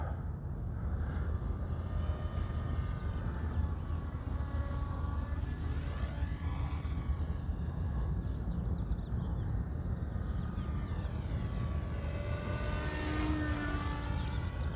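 A ZOHD Talon 250G sub-250 g FPV model plane in flight, its small electric propeller giving a steady, continuous whine and buzz throughout, with gentle pitch shifts as it cruises in calm air.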